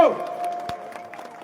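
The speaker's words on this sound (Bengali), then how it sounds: "এবার জোরে করতালি তার জন্য" A crowd at an outdoor Trinamool Congress meeting claps for a district leader, a brief burst of applause that starts loud and tapers, with a voice over a PA.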